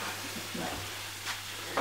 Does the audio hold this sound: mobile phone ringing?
no